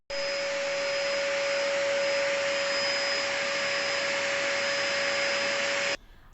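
A household vacuum cleaner runs loud and close for about six seconds, a steady whine with a fixed high tone, then cuts off abruptly into quiet room noise.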